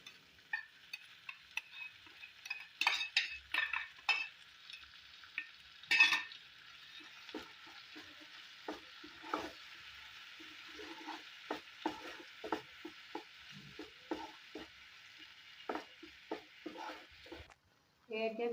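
Capsicum and green chillies stir-fry in a pan for a chicken and egg paneer dish, a steady oil sizzle broken by frequent sharp spatula scrapes and stirring clatters, close and continuous, ending with a brief pause and a final clink.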